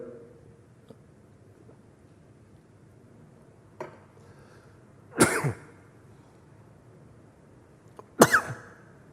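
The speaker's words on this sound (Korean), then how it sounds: "요즘 이렇게 기침이 조금만 찬바람이 세면 기침이 나와서" A man coughs a few times, with sharp, close bursts spaced several seconds apart, the last two doubled, against a quiet room with faint low background noise.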